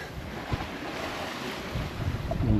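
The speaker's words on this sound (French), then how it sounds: "le vent monte un peu" Steady wind at sea aboard a sailing boat off Gruissan, a continuous broad rushing with water wash and microphone buffeting that swells slightly toward the end, with no voices.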